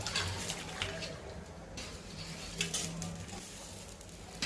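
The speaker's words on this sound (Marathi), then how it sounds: "तर याच्यातही आपण चिप्स टाकून घेऊयात" Sliced potato chips crackle and sizzle steadily in hot oil over a high gas flame, a close, continuous bubbling fry with no talk.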